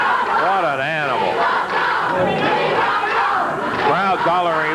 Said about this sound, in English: Crowd hollering, we want Paul.